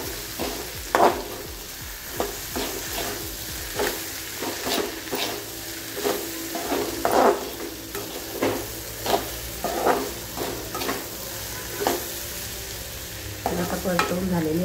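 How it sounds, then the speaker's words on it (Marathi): Raw banana vegetable sizzles in a hot pan while a spatula scrapes and stirs it in steady, repeated strokes, close and fairly quiet over a constant frying hiss. "तरी आपल्याला चांगलं परतून घ्यायची भाजी"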